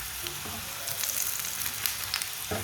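A potato-stuffed aloo paratha fries in a hot pan, giving a steady close sizzle with brief crackling bursts and light shifting sounds, no voices.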